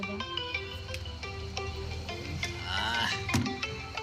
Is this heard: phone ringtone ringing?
yes